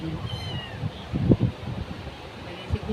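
A cat meows a few times at close range, brief tonal cries over light background noise and low rustling, with faint voices in the room.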